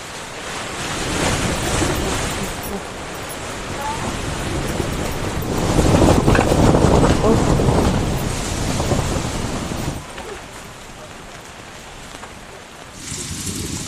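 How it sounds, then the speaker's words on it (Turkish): Strong wind buffets a tent during a heavy storm with rain, a loud broad roar that surges and eases in gusts, near and continuous. "Çok güçlü ya rüzgar."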